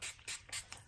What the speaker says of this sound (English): Let's use the ink sprays again because I like it.